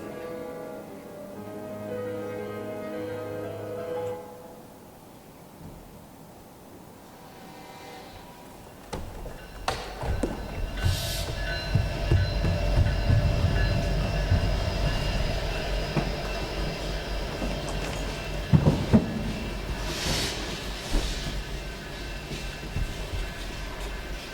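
Quiet, murky ambience gives way to a stage sound effect of a train rumbling past during a theatre performance, a heavy low roar with rattling and clanking that swells and lingers.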